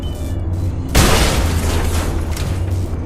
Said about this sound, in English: there is a ceiling panel over here that you can shoot